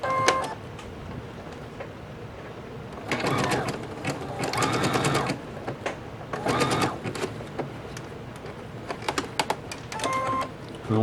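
A sewing machine stitches fabric for a personal face mask in several separate bursts of rapid mechanical clatter, with quiet gaps between runs where the fabric is readjusted.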